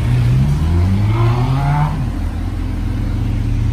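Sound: Honda Hornet motorcycles passing by

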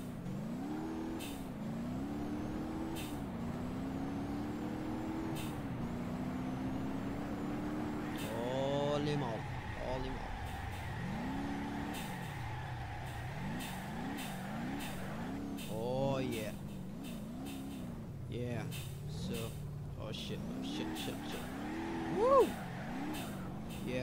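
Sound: supercharged car drifting in BeamNG.drive video game

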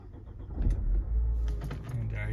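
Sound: Nissan Qashqai car engine starting

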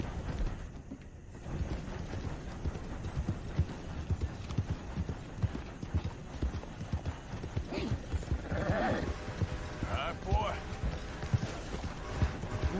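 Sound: horse hooves and whinny in Red Dead Redemption II video game

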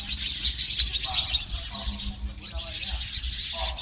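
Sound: birds calling near village house

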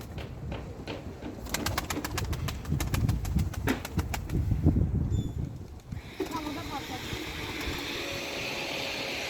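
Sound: game pigeons cooing in a coop

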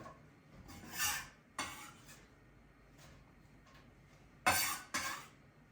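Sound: knife cutting leek on a board

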